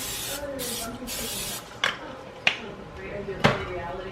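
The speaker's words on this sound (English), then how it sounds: "I'm going to spray it with some non-stick cooking spray." Several quick hissing bursts of non-stick cooking spray from an aerosol can, followed by a few sharp clicks and taps of a dish being handled.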